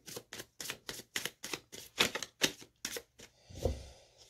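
Tarot cards are flicked and riffled off a deck in a crisp series of about a dozen evenly spaced snapping clicks, followed by a softer shuffling thump at the end.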